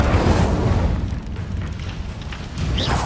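An Incendio fire spell is cast in Hogwarts Legacy, a loud rumbling whoosh and roar of flame that swells, dips, then flares again near the end.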